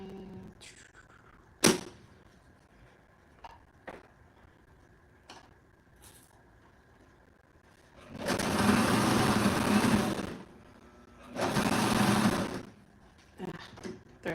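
Sewing machine stitching bed pillows in two loud, close bursts of a few seconds each, separated and surrounded by quieter handling clicks and taps.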